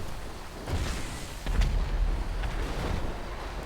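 Deep rumbling blasts of a rocket explosion in the video game GTA 5, sustained and booming with a louder surge midway, with no talk over it.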